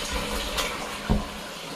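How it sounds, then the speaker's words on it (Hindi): Water falls in broken pieces in a forest, a soft continuous splashing with a couple of sharper splats, fairly near and moderately quiet. "ये देखिए, ये पानी गिर रहा है, ये अजीब सी आवाज़ कर रहा था।"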